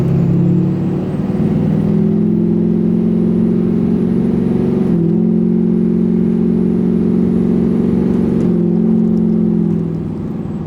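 An LBZ Duramax diesel pickup pulls hard while towing, the engine droning loud and steady with a high turbo whistle rising above it, the tone shifting briefly at gear changes and no voices.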